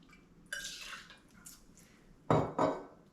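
1.5 ounces of bourbon going into a cocktail shaker with no ice for a raspberry sour, heard as a faint pour and trickle followed by two sharp, close metallic clinks of bottle and shaker.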